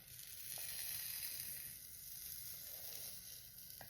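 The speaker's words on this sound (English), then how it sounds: "Hear that protecting oil still in there." A flat iron pressed on Sisterlocs hisses and sizzles softly and steadily as heat-protectant oil heats, a close, continuous frying-like crackle without voices.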